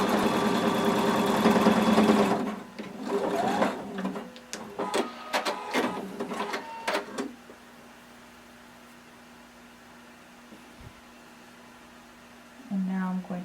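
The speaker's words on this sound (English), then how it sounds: "Sewing again only on my lining fabric." A sewing machine stitches lining fabric for a swimsuit in short bursts, a dense whir at first followed by several quick stop-start runs, then quiet with a low hum and a brief restart at the end.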